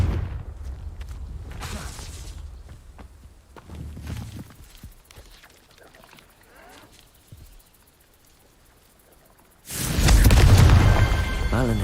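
Confringo blasting spell from Hogwarts Legacy, a sudden loud explosive burst with a rumbling roar that arrives after a stretch of quieter footsteps and faint movement, then holds for a couple of seconds.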